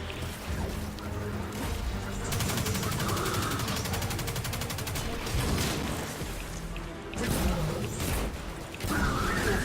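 Colossus enemy in Destiny 2 firing a launcher, heard as dense repeated blasts and mechanical clatter that run almost the whole time in a loud, busy game battle, with brief pauses between bursts.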